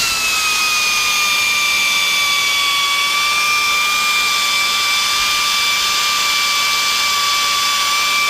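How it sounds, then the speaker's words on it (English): An air drill fitted with a hole saw spins up and cuts aluminum diamond plate, producing a loud, steady, high-pitched whine that holds its pitch up close for several seconds without any talking. "I'll go very gentle so you don't slam this hole saw down when the pilot bit goes through."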